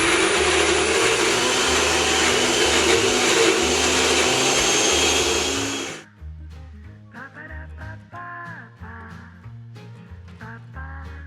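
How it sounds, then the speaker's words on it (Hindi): An electric blender whirs loudly, blending sesame paste with olive oil into tahini, then cuts off abruptly around six seconds, leaving quieter clattering and scraping in a kitchen. "तो बस ऑयल डाल के भी इसे अच्छे से ब्लेंड कर लें।"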